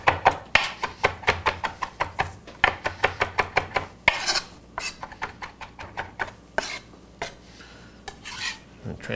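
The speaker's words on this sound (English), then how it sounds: "Next, I'm just going to do a rough chop on the sage and the" A knife roughly chops fresh sage and parsley on a cutting board in quick, rhythmic close taps, with brief pauses and some scraping between bursts.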